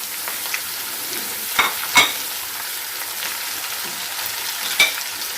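Onion and tomato frying in oil for chicken karahi, a loud continuous sizzle with a few sharp spatula scrapes and clacks against the pan, no voices.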